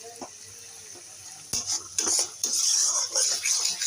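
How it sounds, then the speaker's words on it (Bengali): Ginger-garlic paste, heavier on garlic, is stir-fried in hot oil in a pan for chicken varta, with a steady sizzle under repeated metal utensil scrapes and clinks against the pan and no talk. "আদা রসুনটা দিয়ে এবার একটুখানি কষিয়ে নিলাম"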